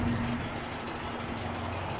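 A 1978 Datsun 620 pickup's 2-litre engine idles smoothly and evenly, a low, steady hum throughout with no talking.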